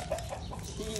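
A backyard hen kept with an Aseel rooster and another hen clucks softly in short, repeated notes over steady outdoor background noise at a small home coop.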